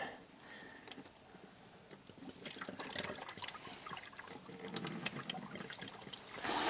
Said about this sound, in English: Make sure it's dumping into my pan right there, kind of like a gutter.